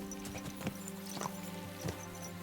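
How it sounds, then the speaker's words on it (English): Horses trotting in Kingdom Come Deliverance II, steady hoof clip-clop over a droning game soundtrack, with a few louder hoofbeat accents and no talk. "Let's really spur these horses on, eh?"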